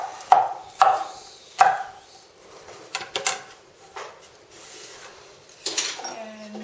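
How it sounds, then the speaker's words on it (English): Knife chopping garlic on a cutting board, a few sharp, fairly close knocks spaced apart, then a quicker cluster of lighter taps with softer handling noises in between. "I'm just going to chop these up a little bit"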